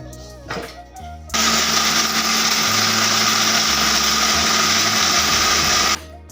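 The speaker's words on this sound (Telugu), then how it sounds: "ముందుగా అయితే కొబ్బరి మిక్సీ పడతాను" Mixer grinder grinding coconut for chutney, a loud steady high-pitched motor whir that starts abruptly after a brief quieter moment and runs for several seconds before cutting off, close to the mic.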